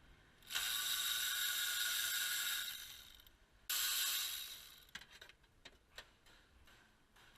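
Ratchet working 10mm bolts off an intake manifold bracket on a 2006 Nissan Armada, two long close bursts of rapid clicking, then a few separate metallic taps and clinks, with no talking.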